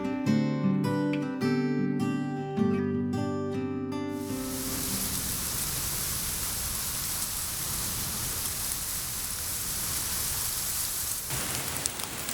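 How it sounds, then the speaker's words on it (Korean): Light drizzle begins falling along a lakeside path at Daecheong Lake, a steady soft hiss of rain that takes over after a few seconds of music and continues alone. "하루 일과를 마무리할 때쯤 가랑비가 내리기 시작합니다"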